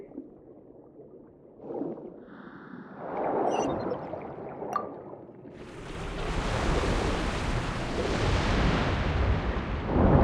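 Water rushes into a sluice chamber in Genshin Impact, starting with quieter mechanism sounds and rumbles, then surging into a loud, steady roar of pouring water that keeps building until the end.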